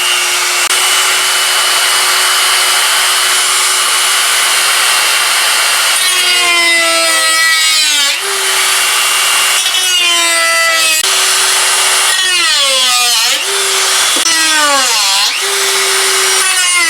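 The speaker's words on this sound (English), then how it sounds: "let's cut this out gently. This is the left side we're doing. Let me get the old Dremel." A Dremel rotary tool cuts into a Ford Ranger tail light, giving a loud, steady high-pitched whine that starts in bursts from about six seconds and rises and dips in pitch as the cutting load changes, with no talk.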